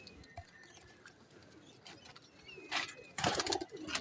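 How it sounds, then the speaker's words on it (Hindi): Salary Teddy pigeons with Saharanpuri ancestry give soft coos and rustle in a loft, with faint, scattered calls at first and a louder burst of cooing and fluttering near the end. "ये दोस्तों मैंने सलारे कबूतरों को शो करवाया"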